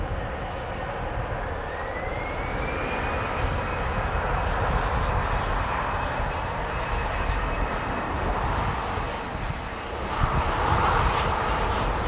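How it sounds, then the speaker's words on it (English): A Ryanair airliner arriving from Mahon at Manchester Airport in strong winds produces a continuous engine roar with a faint rising whine, holding steady and surging slightly near the end. "the Ryanair just arriving in from Mahon"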